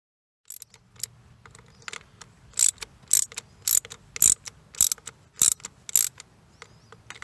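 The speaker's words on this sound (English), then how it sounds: "Audible clunk release sound means success." A Genie lift's freewheel mechanism gives a rapid series of sharp metallic clicks and clunks, about a dozen in quick succession over a low mechanical hum, close and distinct.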